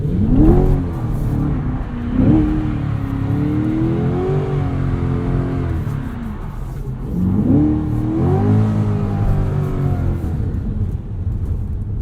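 A car doing donuts, its engine revving hard in repeated rising and falling sweeps, with two strong surges about six seconds apart, loud and close with constant tire and exhaust roar.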